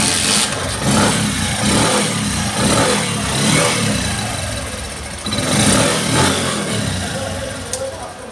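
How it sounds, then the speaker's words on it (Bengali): A 2019-model motorcycle engine idles steadily at close range, a low continuous rumble with slight fluctuations throughout. "আমি একটু ইঞ্জিন সাউন্ড দেখাই"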